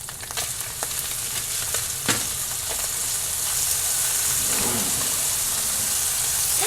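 Bison slider patties fry in a pan with a steady sizzle and hiss, broken by a few sharp crackles and a faint scrape, close and continuous throughout.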